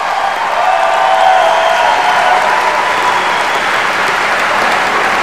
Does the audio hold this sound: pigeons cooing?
no